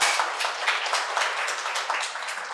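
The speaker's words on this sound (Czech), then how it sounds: "Chce to ďalší potlesk" Audience applause for the dean of a Faculty of Architecture, a steady broadband wash of many hands clapping at moderate loudness, sustained evenly without talk.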